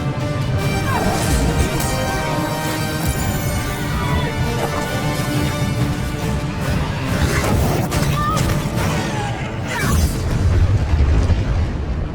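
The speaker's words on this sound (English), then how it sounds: "Was that an earthquake? That, my lad, was a dragon." A dragon's deep rumbling boom from the fantasy film The Hobbit: The Desolation of Smaug rolls on loud and sustained, with crashing impacts layered over a constant low roar and a tonal background.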